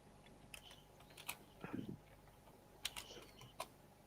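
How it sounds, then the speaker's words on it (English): Hard keystrokes on a computer keyboard come as a handful of sharp, separated clicks and one duller thump in a quiet room, close to the microphone and fairly soft overall. "You hear me bashing away at my keyboard"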